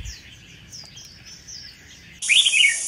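Songbird calling in a Vietnamese bird-trading setting, a Cao Bằng–origin bird for sale: thin high chirps and warbles through the first two seconds, then a louder, bright burst of song near the end, with no talk.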